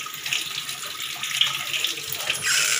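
Tap water runs steadily into a sink as an oily kitchen item is rinsed, a close, continuous splashing rush that swells slightly near the end.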